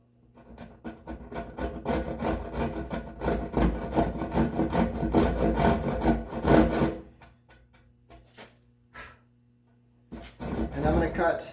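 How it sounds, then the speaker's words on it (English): Crosscut hand saw cutting walnut on a bookcase shelf, a rapid rhythmic rasp of strokes building for several seconds, then pausing and resuming briefly, close up with a voice speaking at times. "I'm going to take a crosscut saw."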